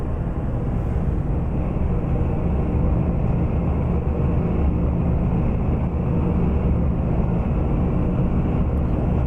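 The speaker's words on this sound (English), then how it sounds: "I love being able to hear the sounds of the engine just come to life." A steady, loud truck engine drone in American Truck Simulator, hauling a 45-ton hay load, with a deep rumble, running continuously without change and no voices over it.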